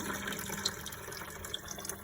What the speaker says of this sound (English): Now the oil starts coming out.